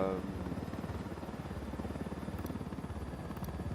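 In the Ghost Recon Wildlands video game, a helicopter arrives with a steady, rapid rotor thump. It sits low and fairly faint in the game mix.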